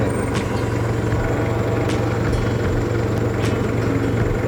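A 3-ton diesel automatic forklift engine idling close by, a loud steady low rumble with a few faint clicks and no voices.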